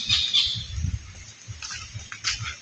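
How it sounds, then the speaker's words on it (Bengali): Several birds call in a sal forest, with high chirps and whistles at moderate distance over a low rustling background; no speech. "তবে অসংখ্য ধরনের পাখির ডাক কিন্তু এখানে শোনা যাচ্ছে।"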